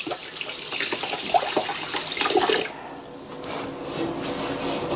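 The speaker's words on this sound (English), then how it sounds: "let me rinse my hands off from that brown sugar" Tap water runs into a kitchen sink as sticky hands covered in brown sugar are rinsed under it, a steady splashing flow that eases off partway through.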